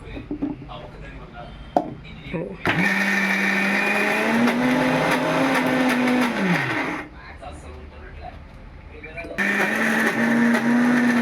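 A kitchen mixer grinder coarsely grinding cowpeas (bobbarlu) for a Dasara feast runs in two loud bursts of rising motor whine with a quieter pause between, while people talk nearby.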